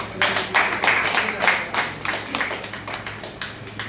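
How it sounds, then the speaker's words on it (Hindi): Members of an audience at a sales team meeting clap loudly on request, a run of quick, sharp hand claps in an irregular rhythm, close and fairly strong, thinning gradually toward the end. "इनमें जो लोग हमको पहले जानते हैं उन लोगों के लिए एक बार जोरदार ताली हो जाए"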